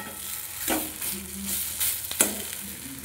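Fish cutlet mixture sautéing in a pan, a steady close sizzle broken by scraping stirs of a spatula against the metal, with no voices.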